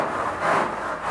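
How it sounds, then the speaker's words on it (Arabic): A broom sweeping the floor of a bird room beneath an aviary: a steady close scratchy brushing with a rough swell midway, no talking. "دلوقتي اخويا بيكنس الارض،"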